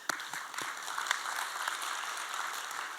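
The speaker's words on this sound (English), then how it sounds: "let's clap it up for that" Applause from an audience at a business talk on social media, a moderate wash of clapping with a few sharper individual claps near the start, steady and fairly distant for the whole stretch.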